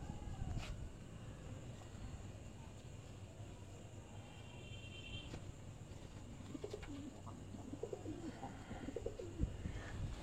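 Soft, steady cooing from golden pigeons kept on a rooftop loft, low and fairly distant under faint outdoor background noise, with a few brief calls and a couple of sharp clicks.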